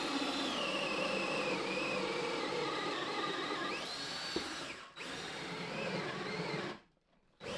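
A drill runs steadily as a 3/4 inch Forstner bit bores about halfway into wooden 2x4 bench braces, with a brief drop in the whine and then a short pause near the end before the motor resumes.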